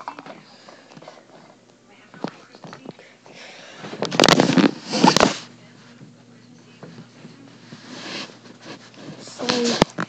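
A toy air rocket launcher fires with a couple of sharp whooshing bursts, one loud pair in the middle and a shorter one near the end, amid quieter handling sounds and occasional talking.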